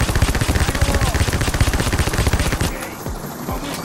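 Rapid sustained automatic gunfire from Payday: The Heist, a loud unbroken stream of shots for most of the stretch before cutting off into a few scattered rattles.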